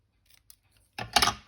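Paper being cut with scissors for a handmade file folder: a few faint ticks, then one close, crisp snipping cut.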